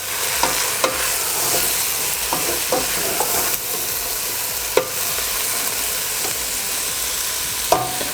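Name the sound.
mixing mushrooms frying in a pan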